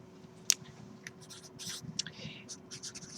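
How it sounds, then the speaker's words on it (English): A pen or marker writes out a math answer in a classroom, with short scratchy strokes and taps in quick bursts, close and fairly quiet, and faint murmuring in the background. "So here's how I will write the answer."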